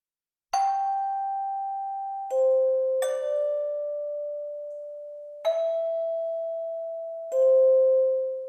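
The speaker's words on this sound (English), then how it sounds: "the addition of the hand bell. And you can hear those right here." Sampled hand bells from a software instrument ring out one at a time, five clear struck tones at varying pitches, each left to sustain and fade before the next.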